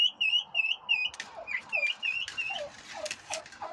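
A turkey chick separated from its companions gives repeated high, piercing peeping calls in a steady series, close by, with other faint chirps and bird calls in the background.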